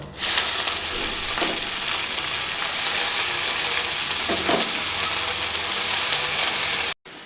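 Red amaranth greens hitting hot oil with crisp fried onions give a loud, steady sizzle that continues the whole way through, with a couple of soft stirring scrapes and a brief cut near the end.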